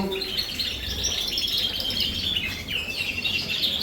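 Canaries in a birdroom of breeding cages keep up a continuous, lively chirping and trilling that sounds fairly close, over a low background hum.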